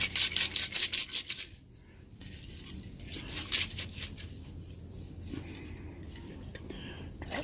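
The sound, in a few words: BBs rolling inside Coleman kerosene lantern tank being shaken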